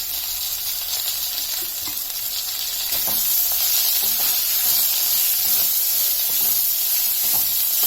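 Carrots sizzle and fry steadily in a pan while cooking into carrot palya, a constant close hiss with occasional stirring scrapes that grows a little louder partway through, with no voices.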